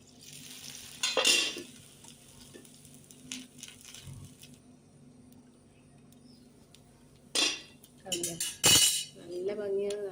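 Dosa batter sizzles steadily on an oiled pan, a soft continuous frying hiss broken by a few sharp clinks and scrapes of a utensil against the cookware.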